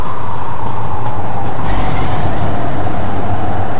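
A train runs along its track with a steady, loud, continuous rumble and low drone, carrying on without a break and with no voices.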